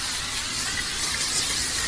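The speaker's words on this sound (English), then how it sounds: "non-stick griddle spray." A steady, close hiss of Blackstone non-stick aerosol spray onto a griddle runs unbroken for a couple of seconds, broad and airy with no voices.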